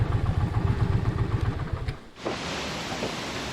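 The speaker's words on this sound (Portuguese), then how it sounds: "vou tentar estacionar aqui a moto" A motorcycle engine idles with a low rumble, then cuts off abruptly as it is parked at Poço Negro in Castro Daire, leaving a steady hiss of background noise.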